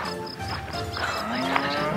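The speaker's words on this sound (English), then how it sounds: "those cows are pretty fucking giant" Cattle moo loudly and close by in a rural field along the Camino de Santiago, a long low drawn-out bellow rising over an otherwise quiet outdoor background.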